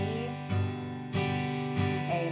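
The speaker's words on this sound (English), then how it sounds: "So let's do a quick demo playing through the chords used in the verse" An acoustic guitar strums chords from a song, ringing chord changes struck roughly every half second, close and clear with no talking.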